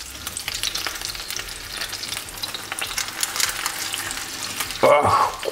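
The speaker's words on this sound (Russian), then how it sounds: "Обжариваем с каждой стороны примерно по 3-4 минуты." Meat fries in a pan with a sprig of rosemary, a continuous crackling sizzle close by with faint stirring scrapes, swelling into a louder burst of spitting near the end.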